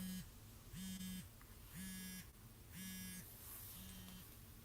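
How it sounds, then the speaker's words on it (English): A cell phone alarm beeps in a repeating pattern, five evenly spaced electronic tones about once a second, faint and unaccompanied by speech. "It won't let me turn this damn alarm off."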